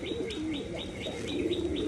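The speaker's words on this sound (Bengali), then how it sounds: "তো দেখুন কত সুন্দর খাচ্ছে পায়রাগুলো" Pigeons cooing while feeding on maize and millet, a close series of soft repeated coos in a steady rhythm over low scattered pecking and shuffling.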